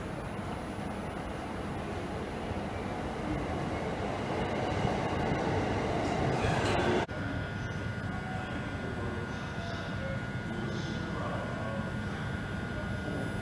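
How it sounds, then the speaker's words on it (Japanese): An out-of-service train rumbles steadily into a Shinjuku Station platform, a loud continuous roar with a sudden shift partway through as it passes close by. "回送電車が参ります。"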